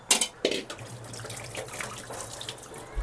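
A little water poured into a pan of chicken curry, splashing and running in short bursts, close and fairly loud, with gentle bubbling underneath.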